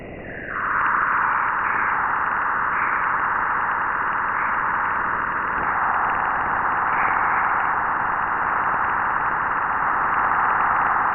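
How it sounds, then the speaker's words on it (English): Spacecraft plasma-wave recording of a crossing of Jupiter's magnetopause: a loud, continuous eerie whistling band over hissing static, shifting slightly in pitch partway through and droning steadily throughout, with no voices. "That is the sound of the crossing of the magnetopause"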